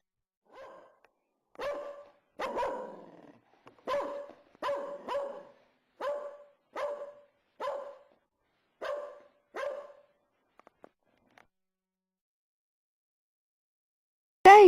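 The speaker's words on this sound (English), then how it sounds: "The dogs are barking" A dog barks about a dozen times at a steady pace, sharp and fairly close, then quiet follows.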